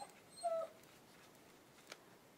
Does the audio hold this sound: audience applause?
no